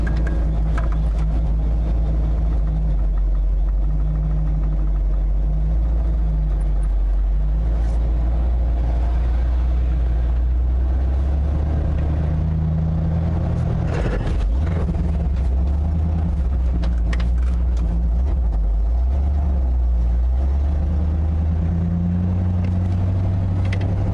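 A loaded ramp truck with a 460 engine and ZF5 transmission drives along a road, giving a steady low engine rumble and drone throughout, with one brief louder surge partway through.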